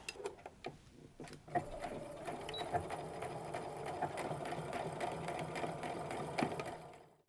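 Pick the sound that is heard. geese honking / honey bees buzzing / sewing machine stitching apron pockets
sewing machine stitching apron pockets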